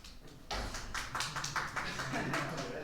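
Audience applause for a mathematics lecture speaker at IMPAN, a steady wash of clapping beginning abruptly after a quiet start and continuing evenly to the end.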